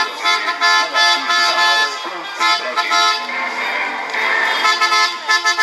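Car motorcade in Belo Horizonte led by a sound truck, with horns honking in repeated loud toots and bursts over several seconds, layered and overlapping, with voices in the mix.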